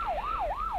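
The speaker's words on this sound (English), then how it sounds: "That sounds like the ambulance now." An ambulance siren wails in a repeating two-tone sweep in a radio drama, brief and moderately close, heard alone without voices.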